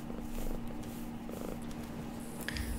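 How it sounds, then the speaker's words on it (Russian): A cat purrs up close against a microphone in a low, rhythmic rumble with a steady hum underneath, and a few faint clicks and noises near the end. "Интересно, вы слышите, как мурчит эта кошка?"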